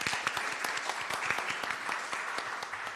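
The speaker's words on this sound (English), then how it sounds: "Can we have a round of applause for the League of Women Voters?" An audience at a comptroller candidate forum applauds the League of Women Voters, a sustained, even patter of many hands clapping that fills the room at moderate volume.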